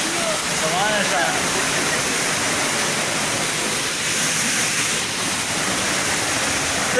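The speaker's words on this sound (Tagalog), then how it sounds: "Makita nato dito sa taas ang dako na falls." Pangyan Falls in Davao Oriental, a loud continuous rush of falling water heard up close, steady and broadband with no pauses.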